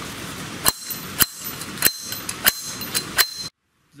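Sharp metallic hammer blows strike a Yamaha rocker arm shaft to drive it out, six loud clanging hits at a steady, roughly half-second rhythm, close and ringing, then abrupt silence.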